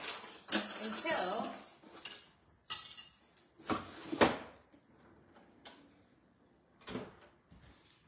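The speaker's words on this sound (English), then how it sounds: "my drawer doesn't close." A kitchen drawer with a wrap dispenser inside is pushed and bumps without shutting, giving several sharp knocks and clatters spread across the stretch, close by, with quieter handling noise between them.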